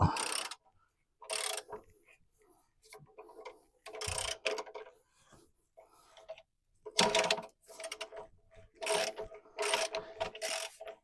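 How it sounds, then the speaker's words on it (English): Extendable ratchet wrench clicking in repeated short bursts as it turns bolts on a Pontiac GTO engine, close and fairly loud with brief pauses between strokes. "these types of ratchets that are extendable, absolute lifesaver"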